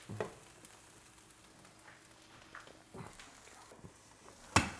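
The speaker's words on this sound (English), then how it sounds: "I'm gonna slam a lid on that bad boy so that cheese melts without overcooking the meat" A cheeseburger patty sizzles faintly under a lid, a low steady hiss broken by a few soft knocks and clatters, ending in one sharp louder clank, no voices.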